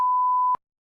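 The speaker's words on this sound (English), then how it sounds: "We can beep that out." A single steady electronic censor tone sounds loud and alone for about half a second, then cuts off sharply into silence.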